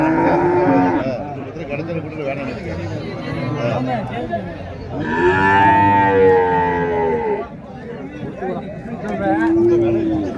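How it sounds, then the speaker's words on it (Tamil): A pair of cart bullocks at a cattle market moo loudly and close in several long calls, with people chattering in the crowd around them. "வண்டி மாடுங்க."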